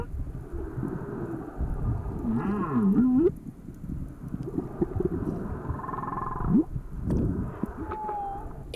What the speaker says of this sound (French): les baleines peuvent produire une large gamme de sons, puissants et variés.